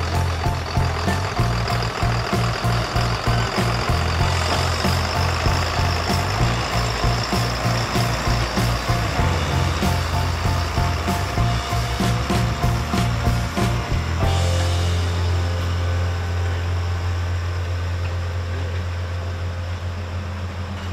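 A 170 hp tractor ploughing a field with a six-furrow plough at a farm machinery show, a deep steady diesel drone under load with rhythmic clattering, close and loud, smoothing out toward the end.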